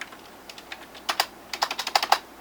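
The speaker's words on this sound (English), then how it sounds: "So, I'm going to type this out without even knowing what I'm typing." Typing on a computer keyboard, with scattered soft key taps at first and then a quicker, louder run of close clicks, heard alone without any talking.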